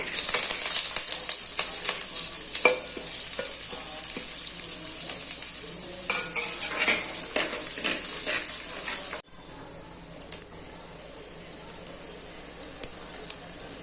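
Chopped shallots, garlic and curry leaves sizzle loudly in hot oil in a pan for a Tamil kuzhambu, with a continuous crackling fry and stirring scrapes that drop to a quieter sizzle partway through.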